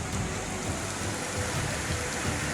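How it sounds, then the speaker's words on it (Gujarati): Torrential rain flooding roads as a swollen drain overflows, a constant hissing wash of falling and flowing water, steady and moderately loud throughout. "મુશળધાર વરસાદથી ધનગડી નાળું તોફાને ચડતા રોડ રસ્તા ડૂબ્યા"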